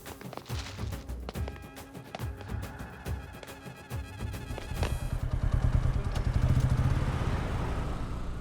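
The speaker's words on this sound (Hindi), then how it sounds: "बाइक को किक मार।" A motorcycle in a Hindi film scene is kick-started: several dull thumps and taps are followed by the engine catching and settling into a loud, steady rumble close by.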